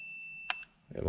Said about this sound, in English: I'm going to go ahead and turn the audible noise back on, mainly so you guys can hear that it has continuity.